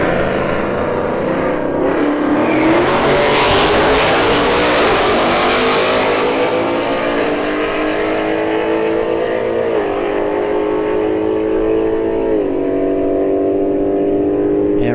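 A Ford Mustang S550 and a Chevrolet Camaro SS launch in a drag race, a loud engine roar climbing through several gear shifts before fading, with no voices.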